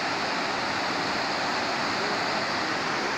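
River water at Chalma rushing steadily and loudly, a dense continuous roar of flowing water filling the whole stretch with no voices over it.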